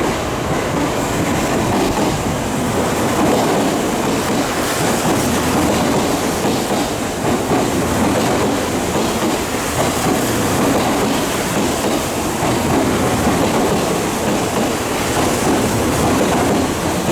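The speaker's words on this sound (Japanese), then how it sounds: "今度4番線に参ります電車は回送電車です。" A Yokohama Minatomirai Y500 series train running out of service pulls into a station platform with a steady, loud rumble and rhythmic clickety-clack of wheels over rail joints, continuous throughout with no talk.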